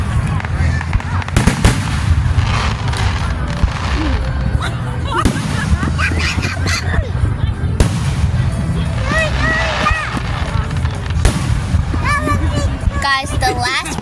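Fireworks crack and boom in repeated bursts across a display, with sharp pops, crackling trails and whistling shells, while people talk and react over the noise.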